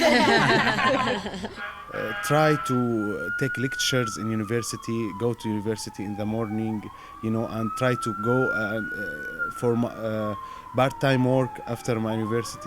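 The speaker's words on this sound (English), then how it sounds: "You can hear the fire trucks outside." Fire truck sirens wail outside, a steady rising and falling tone that repeats through the whole stretch beneath a close conversation between several people.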